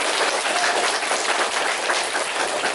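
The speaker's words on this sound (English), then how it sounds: "Let's give another round of applause to our color guard." Steady crowd applause at a school Flag Day ceremony, dense and continuous, like a room full of people clapping together for a few seconds.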